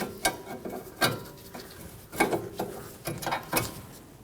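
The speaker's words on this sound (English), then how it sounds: "with some cutters or pliers, undo the cotter pin and pull it through" Metallic clicks and scrapes of pliers working a cotter pin free from the tie rod end of a 2012-2019 Fiat 500 during a front wheel bearing job, several sharp, irregular clicks close by with no speech.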